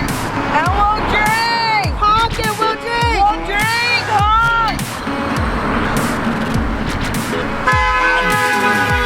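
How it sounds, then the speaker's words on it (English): Car horns honk repeatedly from passing traffic, a mix of short toots and longer blasts of varied pitch, loud and close, with people shouting and cheering over them. "Honk it, horn!"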